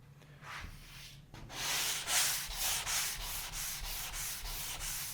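A drywall patch sanded flat by hand, steady rhythmic scraping strokes of abrasive on gypsum compound, close and fairly quiet, about a stroke every half second, with no talking.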